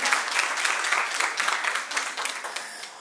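A ceremony crowd at the Cake Art Bulgaria 2023 awards applauds the bronze award winners, steady dense clapping from many hands that eases slightly toward the end.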